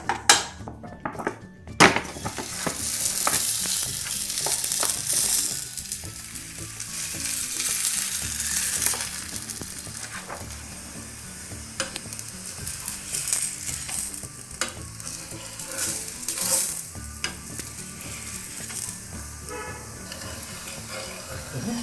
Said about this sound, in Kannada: ಹಂಚಿಗೆ ಸ್ವಲ್ಪ ತುಪ್ಪ ಹಾಕೋಣ